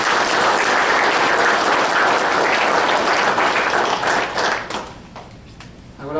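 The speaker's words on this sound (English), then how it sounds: "I believe they all deserve a big round of applause" Loud, dense audience applause at a state of the city address, sustained clapping from a large crowd that thins and fades toward the end.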